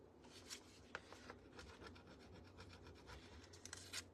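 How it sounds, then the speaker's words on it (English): A cigar box being rubbed by hand, giving quiet, uneven scratchy friction strokes in short bursts with a few sharper scrapes, close and faint with no talking. "I am really having to rub it."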